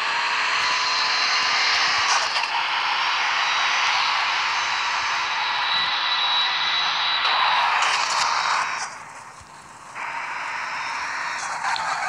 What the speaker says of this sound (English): let me explain the whistling sound you hear in the engine